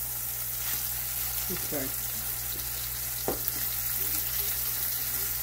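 Fish fries in olive oil in a pan over medium-high heat, giving a steady crackling sizzle with a few utensil scrapes and a brief spoken word over it.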